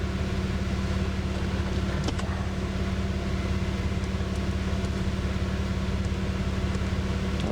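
Turbocharged V12 engine in a Toyota Cressida drives along on wet roads, a steady loud drone with continuous rumble and road noise, heard from inside the car without talk.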